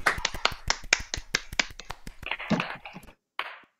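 Masterclass audience clapping for singers and pianists: a handful of sharp, distinct claps in an uneven rhythm, tapering into scattered softer ones before a short silence and one last clap.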